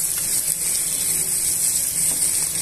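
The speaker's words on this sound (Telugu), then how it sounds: "ఈ ఉల్లిపాయ ముక్కలు, పచ్చిమిరపకాయ ముక్కలు బాగా వేగనివ్వాలి." Onion and green chilli pieces frying in oil in a pan for chicken curry, a steady bright sizzling hiss with faint crackles, close and continuous without speech.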